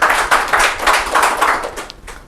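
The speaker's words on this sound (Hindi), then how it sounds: "एक बार जोरदार ताली।" Audience applause at a Rajasthan Parishad event: a short burst of enthusiastic clapping from a crowd, rhythmic and fairly loud, tapering off after about two seconds.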